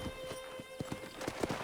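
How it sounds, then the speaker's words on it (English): Horse hooves clip-clop in a quick, uneven rhythm in the Red Dead Redemption video game, fairly quiet and close, with a faint whinny mixed in over a steady background hum. "I picked out a fine horse for you."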